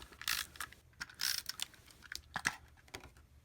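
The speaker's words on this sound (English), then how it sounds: "I'm just going to use my snail adhesive" A snail adhesive tape runner rolls across cardstock layers of a paper card, giving quiet, irregular ratcheting clicks and short scraping bursts in close succession, with no talking.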